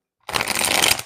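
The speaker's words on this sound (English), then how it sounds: "Sometimes my shuffling is really loud near the microphone." A brief, crisp riffle of cards being shuffled right up against the microphone, loud and close, starting abruptly after a moment of silence.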